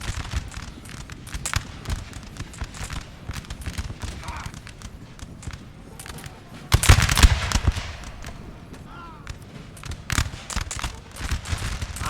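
Musket volleys in a Napoleon: Total War battle at the Siege of Toulon, scattered cracks and rippling bursts of gunfire, one heavy volley near the middle, with someone talking over the battle noise.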